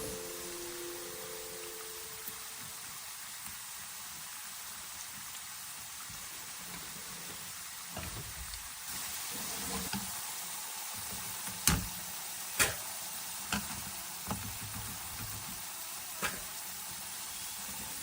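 Sweet potatoes deep-frying in oil over medium heat give off a steady, even sizzling hiss, with a few sharper pops and crackles near the end and no talking.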